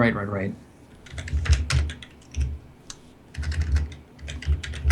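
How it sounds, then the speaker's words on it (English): Dice clattering and rolling across a table during a tabletop role-playing session, a series of sharp irregular clicks in bursts, heard under and between people talking. "Stop rolling dice, please."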